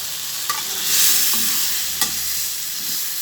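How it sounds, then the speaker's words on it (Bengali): Shrimp and bottle gourd being stirred in a pan, with a soft continuous sizzle under a few light scraping knocks of the spoon against the pan; no talking. "চিংড়ি মাছ দিয়ে লাউয়ের অর্ধেকটা নেড়ে চেড়ে ঢেকে দেবো"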